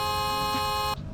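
A car horn in Roblox Greenville sounds as a single steady, loud electronic honk held for about a second, then cuts off abruptly into quiet background.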